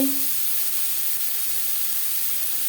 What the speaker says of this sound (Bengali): মাছ ভেজে নেওয়া তেলে দিয়ে দেব পেঁয়াজ টমেটো রসুন